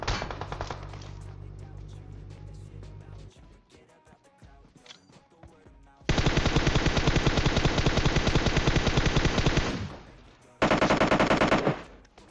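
Automatic gunfire sprays in PUBG Mobile, a battle royale shooter: loud rapid bursts of shots, one long sustained spray and a shorter burst after a pause, with scattered shots and engine noise between.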